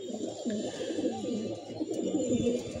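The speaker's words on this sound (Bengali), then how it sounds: "এই একটি কবুতর," A racing pigeon coos close by in soft repeated low phrases, with a light hum of background noise underneath.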